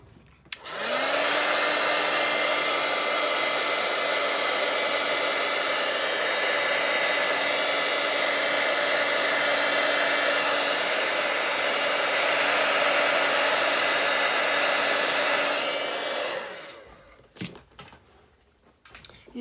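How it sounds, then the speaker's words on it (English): A heat tool blows steadily for about fifteen seconds, melting embossing powder on a feather stamp over vellum, a loud even whoosh with a faint whine that cuts off abruptly, followed by a few light clicks. "We'll bring our heat tool in once again."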